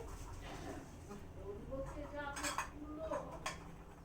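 A silver bowl and spoon, given as rice-ceremony gifts, clink softly as they are handled. A few light metallic chinks come through faint room noise and quiet voices.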